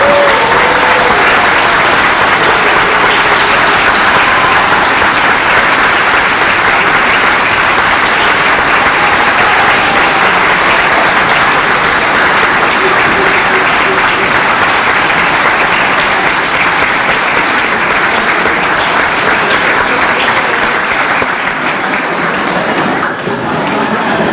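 A large audience applauds to welcome refugees at a MAPS gathering, a loud, sustained wash of clapping that keeps going steadily for the whole stretch before easing off at the very end.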